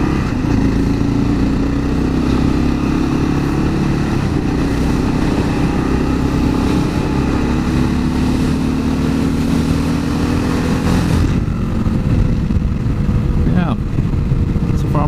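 Engine drone of a 2022 Kawasaki KLR650 motorcycle with lowered foot pegs, a steady loud rumble throughout the ride with rising and falling revs, thick wind buffeting, and a brief shift in tone near the end.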